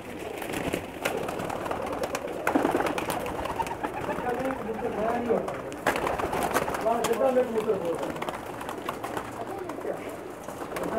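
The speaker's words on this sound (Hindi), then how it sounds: "ये नीला कमगर कबूतरों में से है जी" Pigeons coo steadily from a rooftop loft of Pakistani blue kamagar pigeons, soft rolling calls overlapping close by with faint background rustle and occasional voices.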